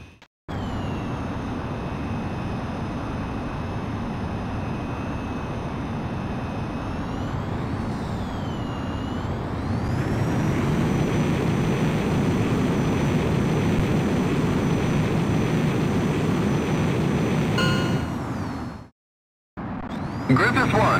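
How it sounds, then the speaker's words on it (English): A Su-37 Terminator jet takes off in the Ace Combat X video game with a loud, steady engine roar. The roar rises in pitch and swells midway, then cuts out briefly near the end. "you are cleared for takeoff."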